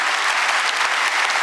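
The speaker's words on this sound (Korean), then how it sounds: "박수 부탁드립니다" Applause fills a government public-report event in Korea, steady and dense from many hands, continuous and fairly loud throughout with no break.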